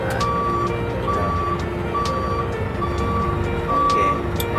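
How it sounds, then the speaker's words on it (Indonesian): A Hino 500 FM 260 JD dump truck's reversing alarm beeps at a steady pace, about one beep per second, sounding clearly over the truck's constant idling engine. "Nah sekalian kita ngecek alarm mundurnya nyala atau tidak ya."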